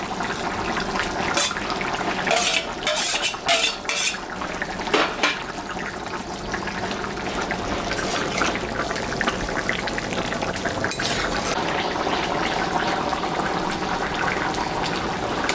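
Shrimp dropping into a simmering jackfruit and meat curry, with a bubbling, watery rush and a few sharp splashy bursts early on, then a steady close boil with no voices.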